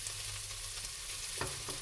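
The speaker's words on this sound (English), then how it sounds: "Okay, let me get to stirring. I'll add some more oil." Potatoes and ham frying in oil in a pan, a constant close hiss and sizzle with a few brief scraping stirs near the end.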